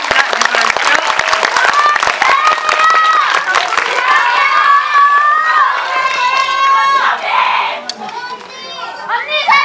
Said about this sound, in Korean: 우리 함께 박수 치면서 이 자리 마감하도록 하겠습니다